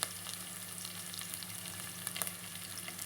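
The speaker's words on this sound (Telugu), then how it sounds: "కొద్దిగా కరివేపాకు వేస్తున్నాను." Curry leaves dropped into hot oil for tomato rasam, giving a steady, close sizzle and crackle with a few sharper pops, no talking.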